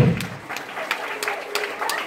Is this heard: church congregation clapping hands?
yes